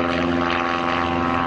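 A Pitts Special aerobatic biplane with a tapered top wing flies at the Oshkosh airshow. Its engine gives a loud, steady, buzzing propeller drone with a rich harmonic hum and no break.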